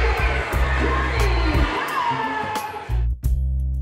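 A wrestling crowd streams out of a British hall after a tense match, a loud roar of cheering and excited shouting with whoops, then a brief drop before the noise swells again.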